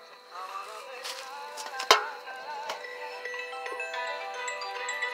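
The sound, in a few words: phone ringing inside metal trash can Faraday cage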